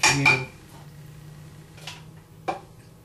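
A spoon clinks against a pot while meat, beans and gravy are stirred, with a few bright metallic taps at the start and a couple of lighter scrapes and clinks spread out over a quiet kitchen hum.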